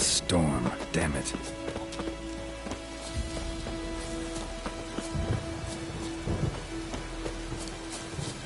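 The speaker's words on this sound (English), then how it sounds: "The storm, damn it." Storm ambience in the video game The Witcher 3: steady rain patter with low rumbling thunder, and someone speaking over it.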